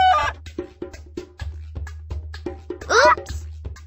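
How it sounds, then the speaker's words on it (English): Cartoon chicken clucking in a Dora the Explorer farm game: a quick series of short, sharp clucks over a low steady hum, ending with a louder squawk. "It's a chicken!"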